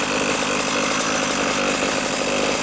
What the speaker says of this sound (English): So I'm going to start it up, and you can see that it can idle.